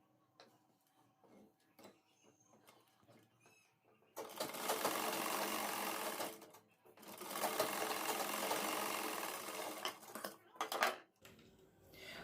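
An electric sewing machine tacks a collar onto stiff buckram in two sustained whirring runs of a few seconds each, close and steady, after some light handling clicks, with a brief pause between runs.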